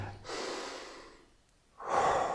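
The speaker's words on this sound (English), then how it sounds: "as I breathe out, just say happy now. And then breathe in, and then breathe out" During a guided breathing exercise, a person takes slow, deep breaths close to the mic: a long soft airy inhale, a pause, then another strong breath, with no talking.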